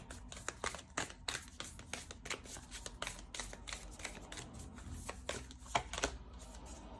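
Cards are shuffled and drawn for a tarot-style reading, giving a rapid run of crisp, close riffling snaps and flicks without speech.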